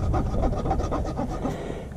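Rasping and trimming a one-week-old miniature baby mule's tiny hoof, a continuous close scraping and rubbing with faint rhythmic strokes and no talking.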